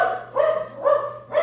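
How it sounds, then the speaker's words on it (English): A pet dog, female, barks three times in slow succession, close and fairly loud, each bark a short rounded woof over a faint steady hum. "apologize about my dog"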